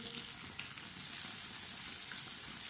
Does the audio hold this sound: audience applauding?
no